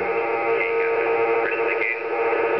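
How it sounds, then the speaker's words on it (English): A radio in echo mode, part of an EMDRC hands-free microphone kit, plays back recorded speech in a muffled, narrow-band tone, close by and fairly steady for a few seconds. "It's in echo mode, so it was recording what I was saying."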